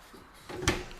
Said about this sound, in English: Pots and pans drawer underneath.